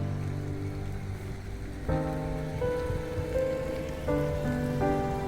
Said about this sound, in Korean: 비가 이렇게 이거 봐요. 비, 빗물 떨어지는 거 보이시죠?